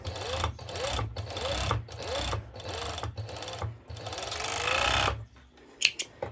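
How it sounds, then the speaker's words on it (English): Serger overlock sewing machine stitching fabric in several quick bursts with short gaps, a loud close whirring chatter, ending in a pause followed by faint handling clicks. "since I have my serger, I'm going directly on it."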